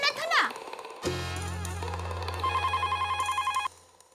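A telephone rings in a Hindi family comedy scene, a steady electronic ring with a pulsing repeated tone, loud and close, preceded by a brief voice.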